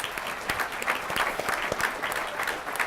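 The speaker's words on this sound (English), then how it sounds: "Round of applause for Jill." An audience at a county government address applauds, a steady burst of many hands clapping in a room, moderately loud and even throughout.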